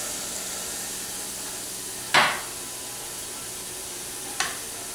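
Food seasoned with salt and pepper cooks in a pan over medium-high heat, giving an even, moderate sizzle with two sharp metallic clinks, the first louder than the second.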